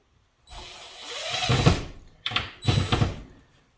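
Power drill driving screws during work on a hoarder house, heard as two bursts of whirring, a longer run then a shorter one, close and fairly loud with no talk.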